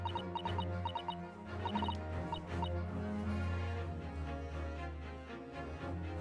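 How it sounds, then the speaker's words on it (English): A goose in the video game The Great Ace Attorney honks in a series of short, bright squawks over a steady musical backdrop, the honks clustered early and then thinning out. "Oh shit, the goose woke up"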